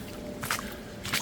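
Footsteps squelch through a puddle on an old Derbyshire track, two soft wet splashing steps heard faintly over a quiet background with no one speaking.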